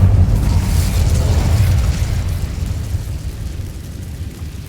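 A loud, rumbling fire-spell blast from the Incendio charm in the video game Hogwarts Legacy, set in a goblin mine, with a heavy booming roar that slowly fades out over several seconds.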